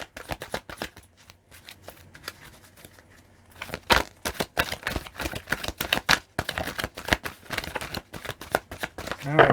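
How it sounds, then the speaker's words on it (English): Tarot cards are shuffled in quick riffling bursts, first softly, then louder and faster with rapid flicking and snapping, close to the listener. "Let's give it one more shuffle here."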